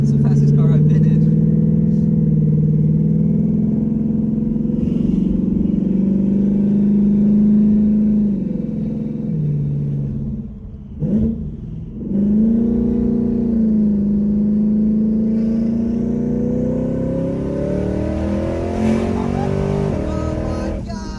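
A twin-turbo Ford Mustang accelerates hard in third gear, its engine droning loudly from inside the cabin with rising pitch, a brief dip near the middle, then climbing again while occupants talk over it.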